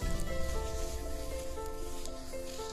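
Sliced onion and ginger stir-fry in oil with caramelised rock sugar in a clay pot over low heat, making a soft, steady sizzle under quiet background music.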